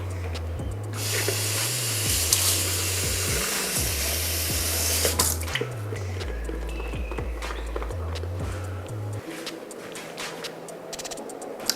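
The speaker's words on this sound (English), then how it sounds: "Okay, I'll actually add water because this is very thick." A blender motor whirs loudly as water is added to thick moi moi batter, its pitch shifting up and down through several bursts before cutting off near the end.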